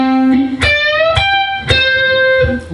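An electric guitar plays a stop bend on the second string: several sharp, bright plucked notes, each ringing with a clear pitch rise and sustain before a quick cut, played alone and fairly loud.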